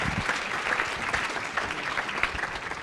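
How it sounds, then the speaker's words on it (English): An audience at a workforce summit breakout session gives a round of applause, a dense, even wash of clapping that holds steady and fairly loud throughout. "Let's give them a round of applause today."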